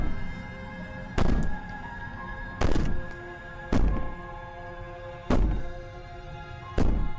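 Heavy banging in the video game Slay the Princess, five deep booming thuds at slow, roughly even intervals over a low droning ambience, loud and close with no speech.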